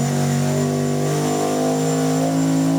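A turbocharged 5.3-liter LS V8 revs steadily on a dyno while building boost, a loud, sustained engine drone with rising turbo whine and no talk over it.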